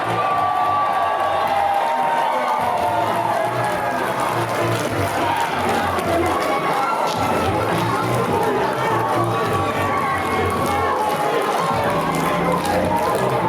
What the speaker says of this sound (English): as you can hear by the ovation